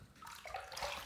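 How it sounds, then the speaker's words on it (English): Water running from a tap to rinse a razor after a shave, a short, close splashing gush that swells briefly. "Let's rinse."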